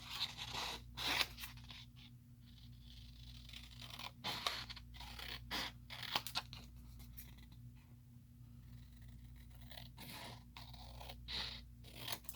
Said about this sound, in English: this time, I'm just going to use my scissors.